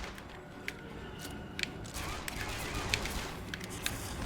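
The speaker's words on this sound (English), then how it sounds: "Alright, I'm gonna actually switch to the pistol." Pistol shots in a PC game on a controller, a string of sharp separate cracks spaced out over several seconds against steady game background noise.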